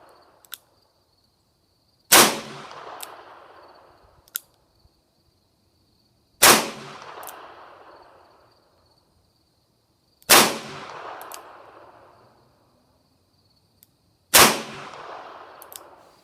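Four sharp gunshots from a Rossi revolver at an outdoor range, spaced about four seconds apart, each a loud crack with a short decaying tail, with a few faint clicks in between.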